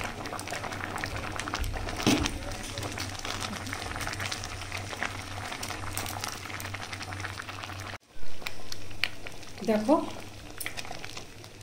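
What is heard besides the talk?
khichuri boiling vigorously in a clay pot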